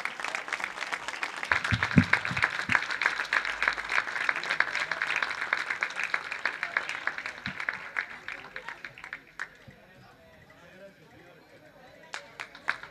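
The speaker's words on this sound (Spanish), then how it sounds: "Pido un fuerte aplauso por este homenaje que le hacen a los..." Audience applause at a rondalla anniversary tribute, a dense, steady clatter of many hands that carries on for several seconds before thinning out toward the end.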